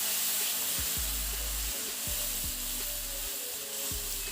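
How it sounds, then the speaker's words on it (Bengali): Onion paste frying in hot oil with a pinch of turmeric, giving a steady, loud sizzle throughout, with occasional low thumps and scrapes of a utensil in the pan. "এখন পেঁয়াজ বাটাটা ঢেলে দিলাম দিয়ে এভাবে পেঁয়াজটাকে কিছুক্ষণ ভেজে নেব"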